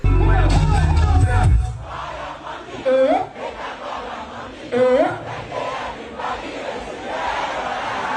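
A massive concert crowd of music lovers roars and cheers at the start, then quieter crowd murmur continues under a presenter's voice, with short vocal calls rising at intervals.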